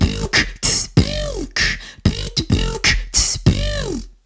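A beatboxed robot-style beat of vocal kicks, snares and pitched, whirring vocal sweeps, ending on sharp hissy hi-hat sounds; a voice imitates the drums.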